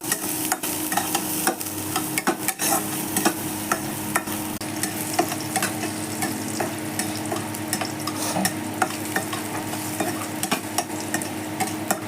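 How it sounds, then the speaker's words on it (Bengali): Spices sizzle in hot oil while being stirred to temper a raw banana curry, a constant frying hiss broken by frequent scraping and clattering strokes, close and steady for the whole stretch. "कच्चा केला की सब्जी में तड़का लगा रहा है"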